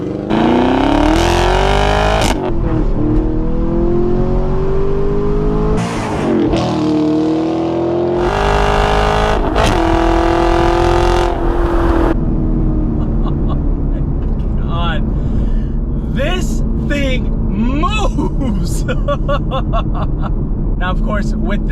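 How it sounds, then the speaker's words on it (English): A Chevrolet Camaro LT1 V8 with a six-speed Tremec manual launches hard using launch control, the engine roaring up through rising revs with shifts, then settling into a lower rumble; a voice talks over the later part. "I gotta try that launch control just one more time"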